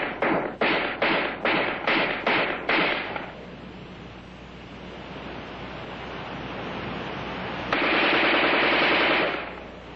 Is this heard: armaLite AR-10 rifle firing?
yes